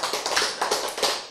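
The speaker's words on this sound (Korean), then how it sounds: "박수." Clapping during a church sermon, a quick run of sharp, close claps in an uneven rhythm, loud and without talk.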